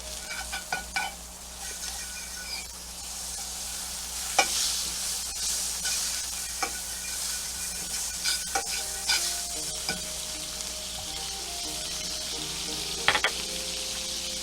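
Oil and butter sizzling in a pan for shrimp rolls, a steady close crackle with clicks and scraping utensil knocks throughout.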